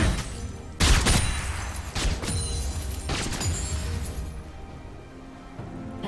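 Gunfire from a long gun in a video game: a few loud, sharp shots with crashing bursts near the start and around two seconds in, then lighter reports trailing off into quieter ambience.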